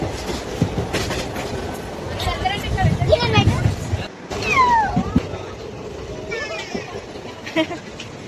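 Steady low rumble and rattling of a moving train carriage, with children's squeals and voices chattering over it.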